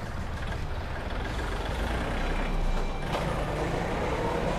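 A used tractor engine runs during a driving demonstration, a low, steady diesel rumble with faint mechanical rattle, heard at moderate distance and fairly quiet, with no talk.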